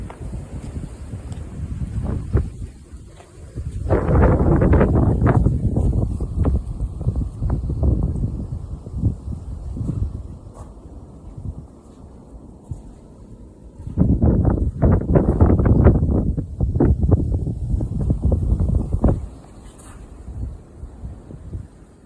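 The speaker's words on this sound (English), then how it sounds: "It's really windy up here." Strong wind gusts buffet the microphone at a mountain lookout on the Mountain View Lookout Trail in Blue Knob State Park, roaring in two long loud bursts with quieter rumbling between.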